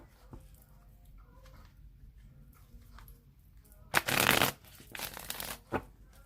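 Tarot cards are riffled in two quick bursts, crisp and close, followed by a few soft taps as the deck is squared; quiet background otherwise.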